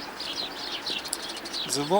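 Winter birds, including a bullfinch, chirp in short thin calls at a feeder in Kyiv, with soft wing flutters and light background noise.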